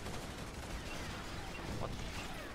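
Dense burst gunfire in Star Wars Battlefront 2, a continuous rattle of rifle shots and explosions filling the clip at steady loudness.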